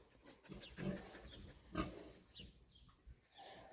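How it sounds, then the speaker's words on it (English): A pig grunting in a trailer, low, soft snorts and grunts arriving in a few scattered bursts close by, with faint background rustling. "As Clayton gets acquainted with the pig."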